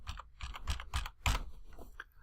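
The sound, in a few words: typing on a computer keyboard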